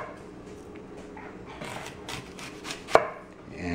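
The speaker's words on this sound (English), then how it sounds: "So you just take the onion and cut a nice thin slice like that." A knife slices an onion on a cutting board during sandwich prep, giving a run of soft cuts that builds to one sharp, distinct chop near the end.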